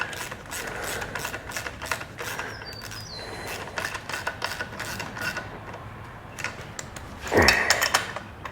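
A hand ratchet tightens bolts on a 1978 Yamaha DT400E motorcycle, with close runs of rapid clicking, short pauses between strokes, and a sharper metallic clunk near the end.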